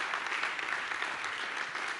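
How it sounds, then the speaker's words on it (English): An audience at a press freedom awards ceremony applauds in a steady, fairly distant wash of clapping that holds evenly for a couple of seconds. "Another round of applause."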